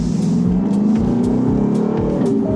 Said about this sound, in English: That V8 sounds real good.